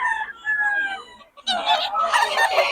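Gamecocks from Pampanga, close and clear. A rooster gives a long drawn-out crow, then after a brief pause loud squawking and clucking bursts follow.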